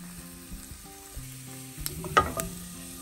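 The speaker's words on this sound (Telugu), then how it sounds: "కొంచెం ఫ్రై అవ్వాలన్నమాట ఇవి" Dried red chilli pieces frying in hot oil in a pan, a soft steady sizzle with faint stirring clinks and scrapes, close and quiet, with no talking.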